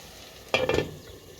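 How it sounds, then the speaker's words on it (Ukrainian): Buckwheat flour pancakes cook in a pan under a quiet, constant fry, with one short clatter of a utensil against the pan at the midpoint; no voices. "Вийшли ось такі млинці. Ще два штучки досмажується."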